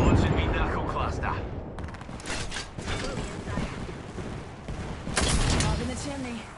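A burst of cluster grenade explosions from the knuckle cluster in Apex Legends, a scatter of sharp pops and booms in several waves over dense battle noise, with voices in the mix.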